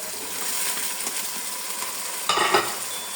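Tomatoes sizzling and frying in a pan with a steady crackle, and a brief louder clatter of a utensil stirring near the end.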